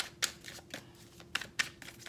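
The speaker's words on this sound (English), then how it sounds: "One more shuffle." Tarot cards are shuffled by hand in a quiet room, several crisp riffling flutters and soft slaps in an uneven rhythm, close and fairly faint.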